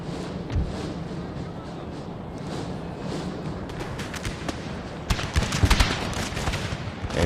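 Cannon artillery fire in Napoleon Total War, with booms and thumps scattered through a steady battle din that grows denser and louder toward the end.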